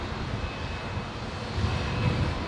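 Air New Zealand Dreamliner jet taxiing at Brisbane international airport, a steady low engine rumble and whine heard from a distance, swelling slightly louder toward the end with no talking.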